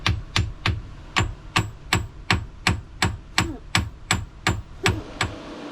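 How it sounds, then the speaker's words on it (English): A hammer strikes a metal part on a boat in a steady series of about a dozen sharp, ringing whacks, evenly spaced and heard up close with no talking. "I had a little bit of movement when I whacked it with a hammer"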